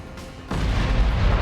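A grenade explodes in a video game with a sudden low boom about a third of the way in, followed by a dense, rumbling blast tail that stays loud to the end.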